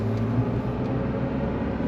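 A 2026 GMC Sierra EV Elevation electric pickup accelerating on throttle: a steady, dense rumble of motor whine and road noise heard from inside the cab, even and continuous throughout.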